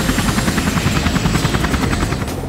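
Helicopter flying for aerial reconnaissance over Angkor Wat, giving a loud, close, steady rotor thump with a buzzing engine underneath and no talking.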